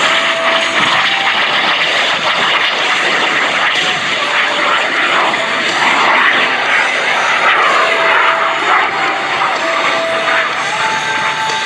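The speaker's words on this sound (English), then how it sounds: "The engine for this jet was built for drones and uncrewed aerial vehicles." A fully aerobatic mini jet with a drone-type engine roars past at a Texas airshow, a loud sustained jet whine with shifting pitch filling the whole stretch and no clear talk over it.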